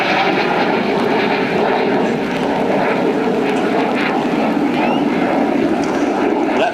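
A low-slung jet performing a flying display at an airshow, heard as a loud, continuous engine roar that holds steady throughout with no voices.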